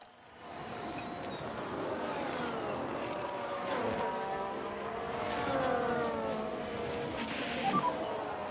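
Race cars in F1 Manager 22, with a HAAS overtaking at Mexico City, roar past in a continuous high engine whine with rising and falling pitch sweeps as the cars jostle and pass, loud and close throughout.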